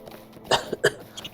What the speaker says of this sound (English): you can see I'm starting to cough a little